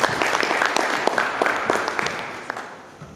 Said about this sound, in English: Let's clap our hands as the Mzingwane boys are working.